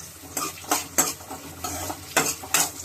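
Onions and capsicum being stirred in a pan for idli chilli, giving repeated scraping clinks of a metal spoon at an irregular rhythm over a low, steady sizzle of frying, close and moderately loud with no talking.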